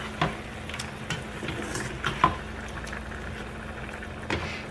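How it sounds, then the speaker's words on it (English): Stuffed pepper filling is stirred in a hot pan, a steady sizzle with a few scraping knocks of the utensil against the pan, close and fairly quiet. "Stir that around."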